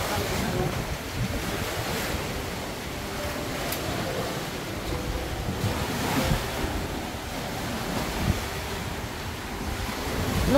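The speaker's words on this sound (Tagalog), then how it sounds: "Yan na siguro ang bagyo naman." Strong typhoon wind roars over crashing sea waves along a coastal road, a constant rushing surge with gusts buffeting the microphone and the surf pounding beneath.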